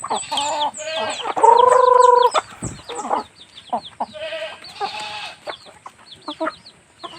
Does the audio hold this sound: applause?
no